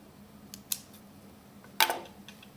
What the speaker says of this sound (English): you'll cut off a small portion of it